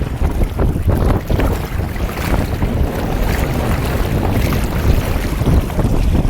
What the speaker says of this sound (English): Today, it's a lot windier, a heck of a lot wavier.